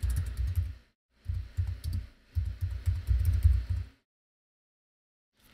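Bursts of rapid typing on a computer keyboard while entering a plugin search, three close, steady clusters of key clicks separated by short pauses, alone with no talk.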